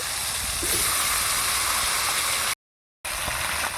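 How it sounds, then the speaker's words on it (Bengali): Potatoes fry in oil in a wok with a loud continuous hissing sizzle, briefly cut by a silent gap before resuming. "আলুগুলো তেলের মধ্যে এরকমভাবে নেড়ে চেড়ে নেব।"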